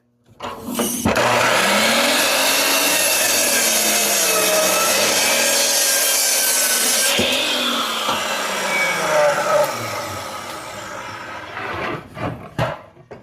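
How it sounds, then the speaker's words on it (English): A power saw cuts through a hardwood countertop, a loud close sustained whine lasting about ten seconds, followed by a few knocks and clatters as the cut ends. "We're gonna cut halfway, and we're gonna flip it over, cut the rest of the way."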